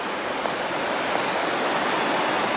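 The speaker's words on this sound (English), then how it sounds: "And then there's the creek down there." A creek flows in a canyon below an old mill at the Crown Point Gold Mine, heard from a waste rock pile above as a steady, even rush of water with no breaks.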